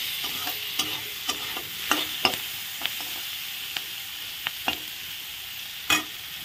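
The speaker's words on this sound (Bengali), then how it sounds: "পেঁয়াজ রসুনের সাথে ভাজা হয়ে যাবে ভালো করে" Steady sizzle of onion and garlic frying in a pan, with occasional sharp scrapes and clicks of a spoon stirring, no voices.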